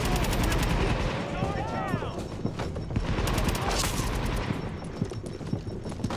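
Rapid gunfire crackles in The Division shooter game, dense overlapping bursts and single cracks over about six seconds, loud and close with some background game noise.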